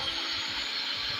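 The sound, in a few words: DC electric drill running on solar or battery power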